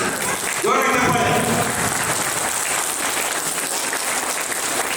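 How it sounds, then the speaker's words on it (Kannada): A crowd at a school event honoring two record-holding students breaks into loud, continuous applause, a dense close-up wash of clapping with a voice briefly rising over it near the start. "ಜೋರಾಗಿ ಚಪ್ಪಾಳೆ"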